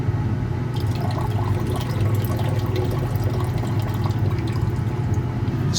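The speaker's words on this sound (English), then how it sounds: "Rinsing it off with some water." Steady running water rinsing recovered platinum and palladium powder residue from a silver cell anode filter refining process, a continuous close wash with faint splashes and drips.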